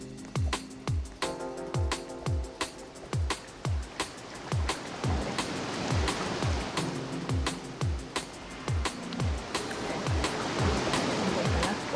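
Repeated tsunami waves crash in a Roblox game, a steady run of sharp splashing surges every second or so over a continuous rushing water roar, with no talking.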